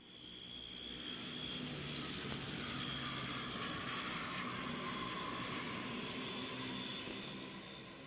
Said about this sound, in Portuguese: O Electra, símbolo da ponte aérea, pousou pela última vez em São Paulo